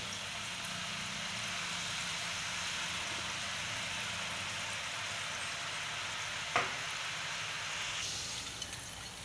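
Chakli dough pressed into hot oil, frying with a continuous soft bubbling sizzle that holds steady throughout, plus one brief clink near the end and no voices.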